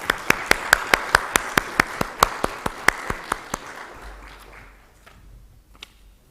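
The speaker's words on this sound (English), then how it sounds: "join me on the stage with big round of applause," A single person claps about seventeen times in a steady, even rhythm, then the claps stop and a quiet room tone remains.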